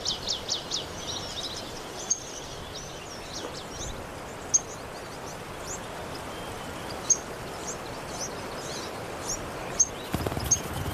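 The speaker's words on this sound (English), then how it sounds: "The courtship begins with birdsong." Courtship birdsong in the Nile region: a series of faint, high chirps and short sharp calls spread over a low natural hiss, some distant, with a few louder notes standing out.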